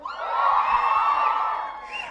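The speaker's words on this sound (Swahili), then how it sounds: "Nduru peke yake." At an International Condoms Day stage event, the crowd lets out loud, sustained ululation, shrill trilling voices blending into a continuous cheering roar that fades slightly at the end.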